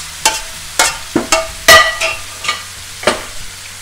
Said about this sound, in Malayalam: ഇനി ബാക്കിയുള്ള ആ സ്റ്റോക്കും ആ ഗ്രേവിയും ബാക്കി പോട്ടിയും കൂടെ നമുക്ക് കറിക്കുള്ളതിലേക്ക് ഇട്ട് കൊടുക്കാം